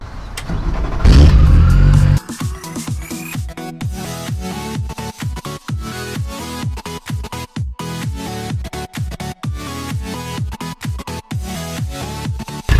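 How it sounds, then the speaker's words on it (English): A Yamaha outboard boat engine on flushing muffs starts with a loud burst, then runs at a steady, rapid chugging rhythm, close and continuous with no one talking. "turn the engine on, and monitor the muffs the whole time the engine is running"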